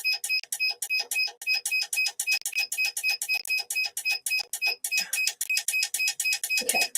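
A tumbler machine's timer sends out a rapid, steady string of high electronic beeps, repeating without pause for the whole stretch, close by and fairly loud, with a faint low knock near the end.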